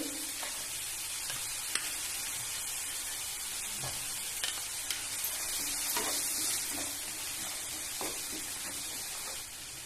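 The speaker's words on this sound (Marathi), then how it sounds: "कांदा लसूण नरम झालाय त्याला डाळ जी मी भिजवत ठेवलेली होती ते मी दोन चमचे टाकते" Steady sizzling of soaked lentils added to softened onion and garlic frying in a pan, with faint stirring clicks, close and continuous without talk.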